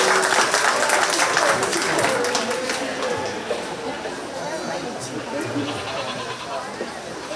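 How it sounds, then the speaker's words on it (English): Crowd applause at a 4-H goat show at a county fair: many hands clap loud at first, then the clapping eases into a softer patter, with murmured chatter and a few faint goat bleats in the background. "Let's go ahead and give her a nice big round of applause."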